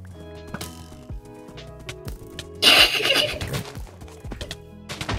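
Horses neighing in Minecraft during a Hypixel UHC match: a loud, close whinny bursts out midway, with clip-clopping hooves and game sound effects before and after.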